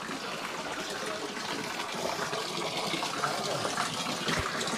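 Spring water falling naturally from a rock structure in the forest near Cherrapunji, Meghalaya, makes a continuous, close, rushing splash at an even level throughout.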